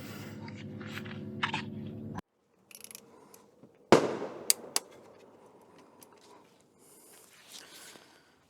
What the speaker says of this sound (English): Sorry about the bangs if you can hear it. It sounds like they're shooting pheasants.